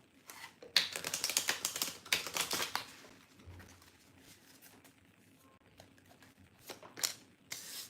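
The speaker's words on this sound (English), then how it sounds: "Give it a good shuffle" Tarot cards shuffled by hand in a rapid flurry of crisp riffling and slapping for about two seconds, then quieter handling and a few soft card sounds, fairly close with no talk.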